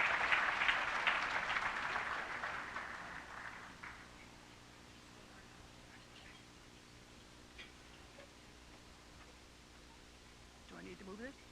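Applause from an audience at a community services dinner gathering, fairly strong for the first few seconds then fading out, leaving quiet room tone with light rustling and a voice near the end.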